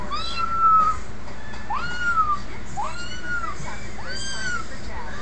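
Recorded cat meows played through a phone speaker, a series of four or five drawn-out, rising-and-falling mews spaced a second or so apart over steady background hiss.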